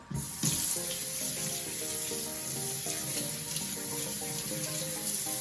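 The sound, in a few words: rinsing a towel under a running tap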